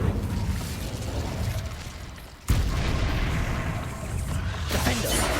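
An Incendio fire spell goes off in the video game Hogwarts Legacy: a harsh burst of crackling, whooshing noise, with a sharp loud onset midway through, then a rolling roar that fades and flares again.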